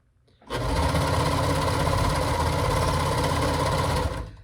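A sewing machine hems fabric for a lounge gown, running in one steady, fast, even-paced stitching burst at close range for about four seconds, with no talking.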